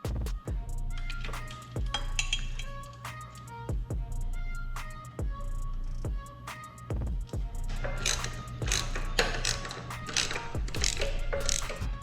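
A ratchet tightens the steering stabilizer dampener bolt on a GTS mini bike, with repeated sharp metallic clicks in uneven bursts over a steady low mechanical hum, close and fairly quiet.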